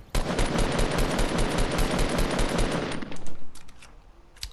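Sustained automatic gunfire in the Fortnite video game: loud, rapid, evenly spaced shots hammering for about three seconds, then a few scattered shots trailing off.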